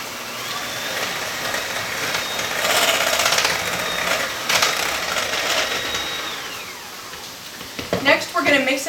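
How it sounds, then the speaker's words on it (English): An electric mixer creams mayonnaise and cream cheese together for crab rangoon, a loud, steady whirring motor with rattling beater noise that shifts in pitch and ends in clattering bursts. "We're going to start by creaming together the mayonnaise and the cream cheese."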